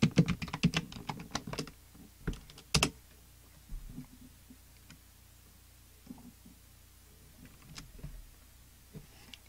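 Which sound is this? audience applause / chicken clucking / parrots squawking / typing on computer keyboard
typing on computer keyboard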